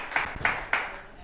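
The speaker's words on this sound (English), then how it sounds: "Let's give a hand clap to the Lord" A seminary congregation at a summer semester opening celebration service claps three times in unison. The sharp, evenly spaced claps are fairly faint and stand alone with no talk.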